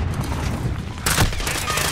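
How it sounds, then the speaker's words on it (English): A loud explosion in a military first-person shooter game with drones, VTOLs and airstrikes erupts suddenly as a broad blast, partway through against constant battle noise. "Priming explosion."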